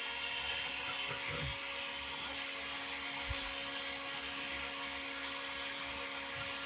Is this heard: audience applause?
no